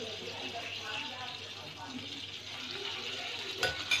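Ingredients frying in oil in a pan give a steady, close sizzle that runs the whole time, with a couple of sharper utensil clinks near the end and a voice speaking over it.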